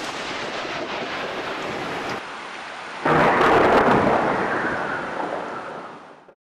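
Thunder from a lightning storm rolls through, a steady rumbling roar that surges louder at about three seconds and then slowly fades away, with no voices.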